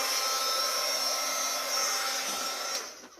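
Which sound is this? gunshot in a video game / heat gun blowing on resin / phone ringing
heat gun blowing on resin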